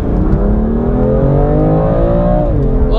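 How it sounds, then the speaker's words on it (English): A BMW M2 Competition engine revving hard in second gear on a track, a loud, steady, close growl whose pitch climbs and holds high before dipping briefly near the end, with no talking. "That engine is so angry. It just pulls and pulls."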